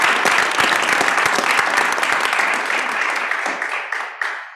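Applause from attendees at a university system board of regents public meeting, a full, crisp round of clapping that thins out and fades toward the end, with a few last claps trailing off.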